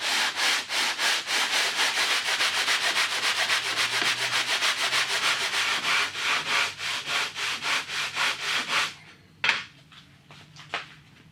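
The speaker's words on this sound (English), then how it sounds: "And just start sanding it." Rhythmic sandpaper strokes rubbing along a maple wood edge, steady back-and-forth scraping close up, then a few slower final strokes before stopping.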